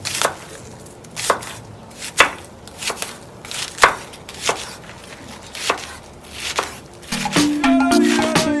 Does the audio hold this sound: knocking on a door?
no